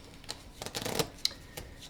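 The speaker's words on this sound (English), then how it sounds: "Okay, I'll shuffle real good for you" Unsleeved playing cards for a Lord of the Rings: Journeys in Middle-earth board game are riffled and shuffled by hand, a close, soft papery burst of rapid flutters and snaps lasting about two seconds.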